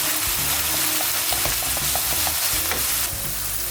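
Lasagna sauce ingredients sautéing in a pan, with a dense, steady sizzle and frying hiss broken by repeated clinks and scrapes of stirring, close and loud with no voices.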